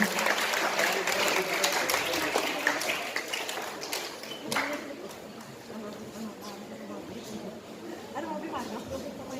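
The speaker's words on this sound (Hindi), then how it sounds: "सर और तालियां बजनी चाहिए उस कोर्स के लिए जो सर ने व्यक्त की।" An audience at an event gives a round of applause, dense clapping that gradually thins and softens, with some chatter and murmuring underneath.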